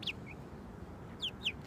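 Backyard chickens giving a few short, high clucks, one near the start and a pair toward the end, fairly close over a quiet outdoor background.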